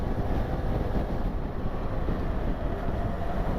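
A boat motor running steadily, a dense continuous rumbling drone mixed with wind and water noise, heard close and loud without a break.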